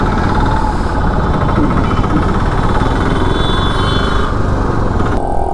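Dense street traffic in Bhopal, India, dominated by a close, loud motorcycle engine droning steadily with a rough vibrating texture, the surrounding road noise constant throughout.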